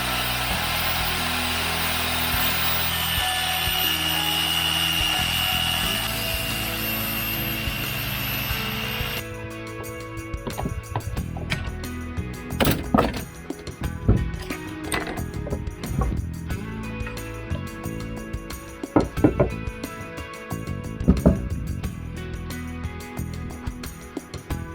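A trim saw cuts the profile of a wooden tiller made from an old doorframe, the piece clamped to a garden bench outdoors, giving a close, steady buzzing whine with rough irregular bursts of cutting noise across the second half.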